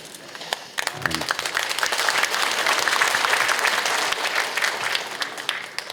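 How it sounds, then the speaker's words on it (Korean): Audience applause at a Buddhist prayer service in Korea for the resumption of Mount Kumgang tourism, a dense burst of clapping that swells quickly and holds steady for several seconds. "다시 한번 큰 박수 부탁드립니다"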